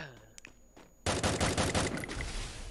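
Rapid automatic gunfire in the battle-royale game Free Fire bursts in suddenly and continues loud and sustained, after a short stretch of quieter voice and game sound.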